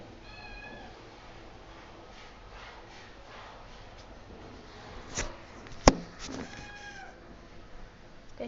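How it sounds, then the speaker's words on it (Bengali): A cat meows several times on a rooftop, with drawn-out, wavering cries near the start and again toward the end, between a sharp click and a brief thump, over quiet background noise. "ওই যে আমার বিড়াল এসে পড়ছে"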